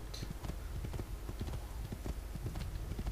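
Horse hooves clip-clop in the video game Assassin's Creed 2, a continuous, brisk trotting rhythm heard close over a low steady background.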